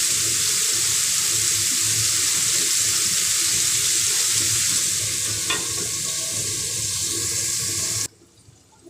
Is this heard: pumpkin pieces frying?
yes